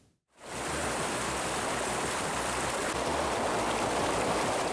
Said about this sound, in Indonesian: Air bercampur material vulkanik berupa pasari dan batu menerjang sejumlah aliran sungai